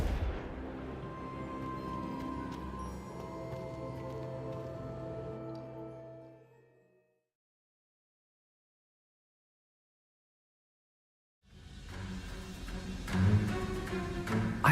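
Confringo blasting curse in Hogwarts Legacy: a loud, rumbling barrage of blasts fills the opening seconds and decays to total silence, then another burst of booming erupts near the end.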